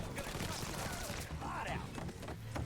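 Rapid gunfire bursts from the Mafia III video game pop out of a dense, steady layer of game noise, with a voice heard under the shooting.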